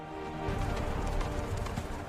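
Horse hooves clip-clop in a quick, steady rhythm on hard ground, fairly faint and close, with no talk over them.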